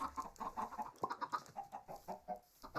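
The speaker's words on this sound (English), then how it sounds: "the chickens might actually be my big resource" Busy Minecraft chicken clucking, several birds chattering in quick, overlapping bursts with a steady, game-like quality, fairly close and continuous.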